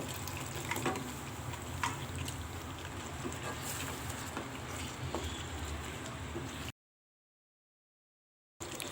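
Water splashes and trickles into a pan of chicken masala, a continuous close pouring and sizzling texture with small pattering accents, ending in a sudden cut to silence before a brief return.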